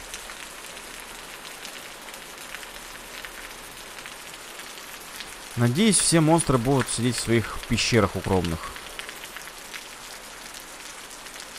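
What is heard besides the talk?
rain in the video game Osiris: New Dawn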